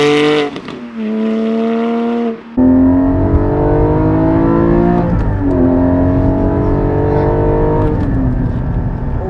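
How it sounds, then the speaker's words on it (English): A Porsche Cayman GT4's 4-liter, 414-horsepower flat-six engine revs hard, climbing through gears with rising whine and brief drops between shifts, loud and close from inside the car. "Oh, it sounds good. 4-liter flat six, 414 horsepower."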